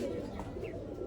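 Pigeons give a soft, short coo, faint and somewhat distant, over a low background hum with no clear talk.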